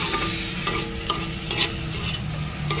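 Pechay greens stirred in a hot pan, a loud close sizzle with a few spaced scrapes of the spatula against the pan.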